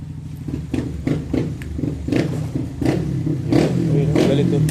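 A motorcycle engine that has sat in long storage sputters and clatters through uneven starting attempts and short revs, rough and irregular throughout.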